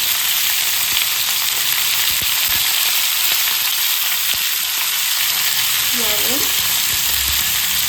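Green chilies, five-spice, onion, tomato and potato fry in a pan with a loud, continuous close sizzle, broken by faint stirring clicks and a short voice-like sound near the end.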